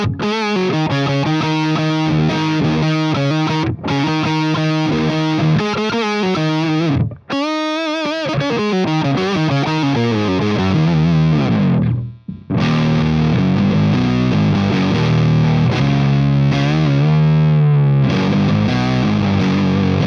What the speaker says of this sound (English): It's a hairy, fuzzy sound with low octave, and if you play up the neck, there's your high octave